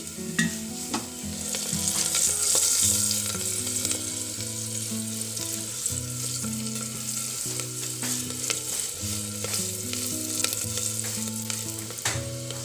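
Turmeric powder frying in a pan with cloves as it is stirred, a steady sizzle under a repeating melodic music background, with no voice.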